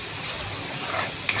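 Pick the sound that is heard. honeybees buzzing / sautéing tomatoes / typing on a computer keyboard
sautéing tomatoes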